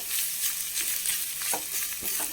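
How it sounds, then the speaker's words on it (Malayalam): Grated coconut roasting in a pan for jackfruit erissery, a Kerala curry, hisses and crackles steadily while a spatula stirs and scrapes in soft repeated strokes, close up. "നാളികേരം നന്നായി വറുത്ത് ചേർക്കണം"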